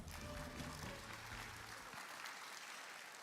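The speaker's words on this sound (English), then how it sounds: "Let's give him another round of applause." Audience applause following a lecture at a literature conference opening ceremony, a steady wash of clapping from a large hall under a low humming tone that cuts off near the two-second mark while the clapping continues.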